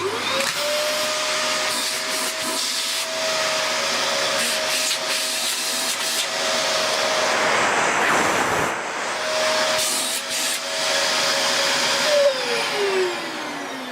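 A Dyson DC24i upright vacuum cleaner runs continuously during a suction test, a loud steady whine with a pitch that dips and shifts as airflow changes, close by.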